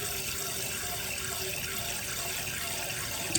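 Rice is rinsed and swirled in water in a kitchen, with steady running, sloshing water throughout and no clear speech.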